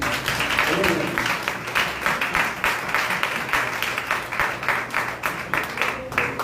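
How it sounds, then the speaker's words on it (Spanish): A church congregation applauds during a worship service, steady clapping filling the space at moderate volume with faint voices mixed in. "El otro aplauso, Señor"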